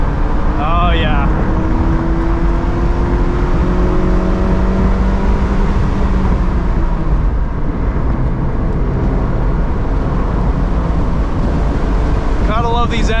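2009 Mazda MX-5 Miata NC engine driven hard on a race track, a loud continuous engine drone with rising and falling pitch through shifts, heavy wind rush throughout, heard from inside the car.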